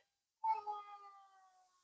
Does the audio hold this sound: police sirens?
no